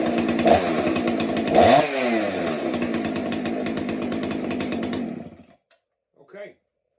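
A Husqvarna 266XP chainsaw with a faulty kill switch fires up and runs loudly for about five seconds, revving once early, then cuts out abruptly; a brief voice follows in the quiet afterward.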